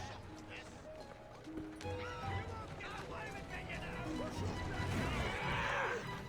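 Horses clatter past with hooves clip-clopping and a neigh rising amid busy game sounds in Assassin's Creed Syndicate, set in Victorian London, while a voice talks over the commotion.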